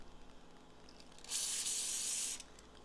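A single steady hiss from a spray can of gun cleaner used on a pistol, lasting about a second, close by in an otherwise quiet room.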